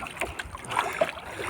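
A new wooden bangka outrigger boat with a new sail glides across open water, giving a rushing wash of water and wind buffeting the microphone, with small splashes and creaks throughout.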